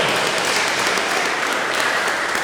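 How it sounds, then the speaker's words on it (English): Steady, dense applause from a large crowd at a civic association meeting, loud and continuous throughout with no pauses. "please help me with a big round of applause to welcome him and to receive this award."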